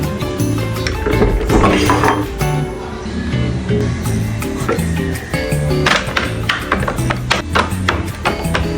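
Dishes and cutlery clink and clatter close by as plates are set down one after another in a dish rack, with sharp knocks in an irregular rhythm.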